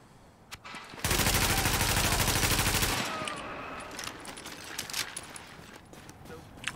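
Sustained automatic gunfire from enemies in The Division, a dense rapid burst lasting about two seconds, loud and close, then giving way to scattered distant shots and ambient noise.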